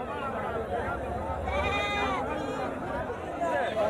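Goats bleat at a busy livestock market in Thoothukudi during heavy trading, with several wavering calls rising over a constant murmur of crowd voices.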